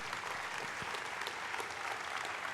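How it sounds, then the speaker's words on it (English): Steady, dense audience applause at a conference talk on affordable, liveable cities, sustained throughout at moderate distance with no talk over it. "A big round of applause for Jennifer Keysmat."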